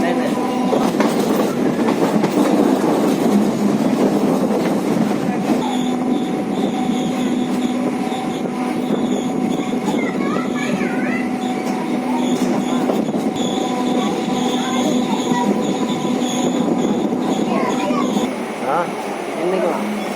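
Train running from Chennai Central toward the Pattabiram military siding depot, near Avadi, with a steady loud rumble on the rails, sustained wheel squeal and screeching tones, and a voice talking intermittently over it.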